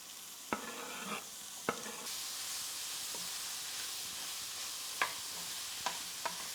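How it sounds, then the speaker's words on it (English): Blanched, chopped meat for Eurasian curry feng sizzles steadily in a hot pan. Several sharp knocks from stirring against the pan cut through the hiss. "Then we're going to add our meat, our blanched and chopped up meat"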